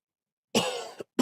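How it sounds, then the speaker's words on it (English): A single cough, close and fairly loud, followed by a brief second burst at the end, with no talking. "Cough."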